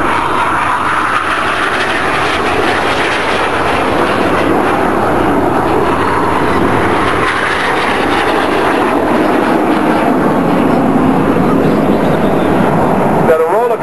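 Red Arrows jets of a synchro pair fly double rolls at an air festival in Bournemouth, a loud sustained roar that fills the whole stretch while an announcer talks over it.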